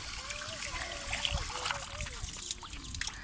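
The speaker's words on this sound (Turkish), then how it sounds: "Ellerimizi yıkamalıyız." Cold water runs steadily from a tap during handwashing, a continuous trickle and splash with a voice talking over it.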